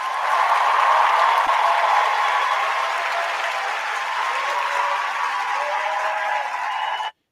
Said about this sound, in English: Y'all give a round of applause to my cousin.